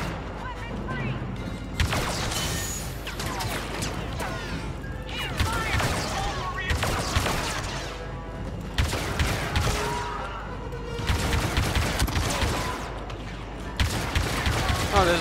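Rapid bursts of blaster-style weapon fire in Star Wars Battlefront 2, a cooling weapon that needs no reload, come in repeated dense volleys of several seconds each, with brief lulls between them and loud, crowded battle noise throughout.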